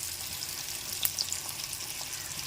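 Fish coated in salt and chili powder frying in a pan, giving a quiet, continuous sizzle and crackle with a few brief pops, with no talk over it.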